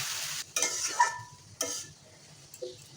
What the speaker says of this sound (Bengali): আমি এভাবে নাড়াচাড়া দিয়ে রান্না করে নেব।